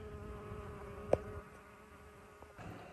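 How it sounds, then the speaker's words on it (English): Bees hum faintly around flowering lemon balm and other garden herbs, a soft, steady insect drone with one brief louder buzz as a bee passes close. "And the bees are just crazy about it. They're all over it."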